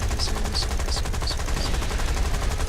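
Aircraft guns firing in War Thunder, with British planes in air combat, give a steady, dense rattle of rapid shots under repeated short bursts. The sound is continuous and moderately loud, with no talk.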